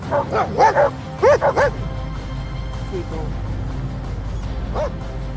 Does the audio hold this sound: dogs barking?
yes